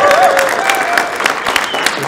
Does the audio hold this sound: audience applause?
yes